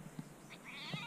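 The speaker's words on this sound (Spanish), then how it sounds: "Un gatito por aquí." A small kitten gives a faint, soft meow on a quiet mountain walking route, a single thin cry drawn out near the end over low background hiss.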